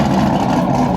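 A Corvette Z06 fitted with a Corsa exhaust pulls away, a loud, deep engine rumble close by that holds a throaty, steady growl for a moment.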